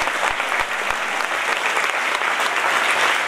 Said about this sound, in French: Un grand applaudissement pour Daniel Picouli et pour Nicolas Pagnol.